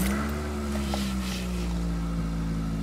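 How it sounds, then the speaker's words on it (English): Idle of a 2004 Pontiac Vibe just after a cold start, 284,000 km on it and an exhaust leak, a steady droning engine hum close to the mic with no talking. "it's not really that cold out, but we'll do a cold start of it."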